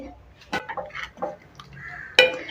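Metal pan and vessel clatter as tamarind kara kuzhambu with brinjal, drumstick and raw mango is transferred off the stove, a few scattered scrapes and clinks ending in a sharp ringing knock.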